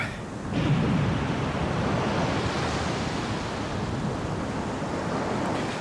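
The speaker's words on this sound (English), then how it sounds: "we put the emblems in, and that drains the water" Rushing water drains away in the Resident Evil Remake after the emblems are set in place, a steady broadband wash like surf that swells after the first half second and holds loud and even to the end.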